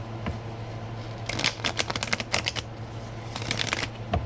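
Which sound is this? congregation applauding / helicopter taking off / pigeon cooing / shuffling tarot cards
shuffling tarot cards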